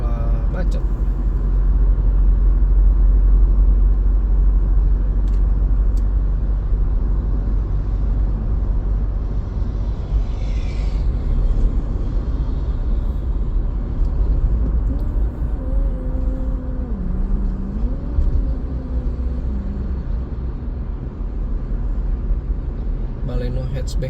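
Inside a car stuck in a traffic jam at the Kunciran toll gate: a constant low cabin rumble of idling and creeping traffic, with faint tonal whines and hums drifting in midway.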